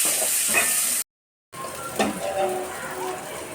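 Mustard seeds, green chillies and onion tempering in hot oil, a steady broadband sizzle with a short silent gap, then renewed frying crackle and faint kitchen clatter close by.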